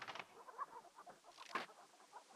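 Chicken clucking in the King's Quest III Redux adventure game: a few short, soft clucks and squawks with a sharper burst midway, heard alone without speech.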